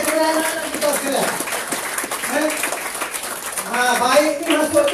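An audience claps for the children at the closing ceremony of a badminton talent camp in Perak, steady applause running the whole time beneath a loud voice on a microphone.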